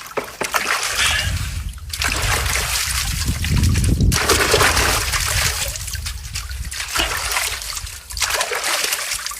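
Water runs and splashes over a wristwatch, a loud close spattering stream that surges and breaks off briefly several times before flowing again.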